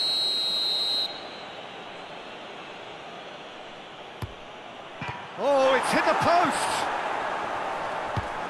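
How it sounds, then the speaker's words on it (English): A referee's shrill whistle blows once for about a second at a Thailand vs Malaysia ASEAN Championship football match, then gives way to stadium murmur, a faint thump and a commentator talking. "Whistle's gone, that's a foul."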